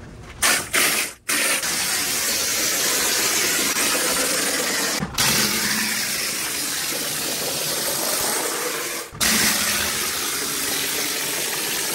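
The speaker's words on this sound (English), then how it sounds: "this cement sprayer is the perfect tool for this job" A cement sprayer hisses continuously as it coats a stony basement wall, a loud steady spray of wet noise broken by a few brief pauses and clicks.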